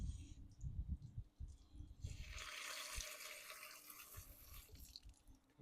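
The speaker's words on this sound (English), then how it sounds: "I'm just going to fill the fill hole here with water." Water is poured into the fill hole of a Predator trash pump, a soft splashing rush that starts about two seconds in and continues faintly, with low knocks and handling noise before it.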